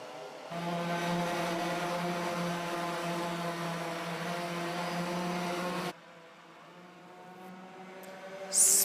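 Racing karts in a kart series race scream down the start-finish straight, a loud buzzing two-stroke engine drone with strong harmonics holding steady, then dropping away to a quieter, more distant whine.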